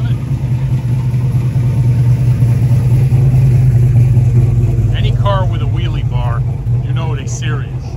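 Ford Maverick drag car with wheelie bar and full roll cage idling loudly at Shadyside Dragway in Shelby, North Carolina, a deep steady rumble with people talking over it toward the end.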